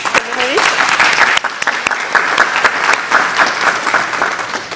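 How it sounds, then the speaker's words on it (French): Dense applause from a crowd at an opening address, steady and loud for the whole stretch, with a few sharper claps standing out and a brief voice near the start. "Vous pouvez les applaudir."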